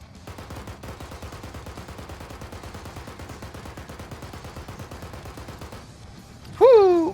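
Sustained rapid gunfire from an aircraft's strafing run in the military game Arma 3, a dense rattling stream of shots lasting several seconds before cutting off, then a brief loud call or whoop.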